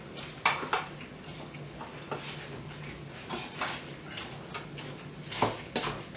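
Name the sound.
mixing ingredients together for chicken almond pastilla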